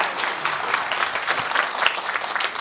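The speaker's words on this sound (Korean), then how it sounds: "박수 한번 주시죠." Audience applause at a national railway network planning forum held at the National Assembly, a steady burst of many hands clapping filling the room for nearly three seconds without speech.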